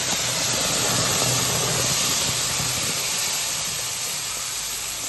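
Freshly ground spice paste hits hot mustard oil in a pan, giving a steady, loud, continuous sizzling hiss with no talk over it.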